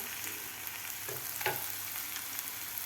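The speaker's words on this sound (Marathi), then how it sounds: "टोमॅटोसुद्धा आपलं व्यवस्थित परतून झालेलं आहे सॉफ्ट झालेलं आहे" Softened tomatoes frying in a pan with asafoetida for a village-style drumstick curry crackle in a low, steady sizzle, with a couple of spoon-stirring scrapes near the middle.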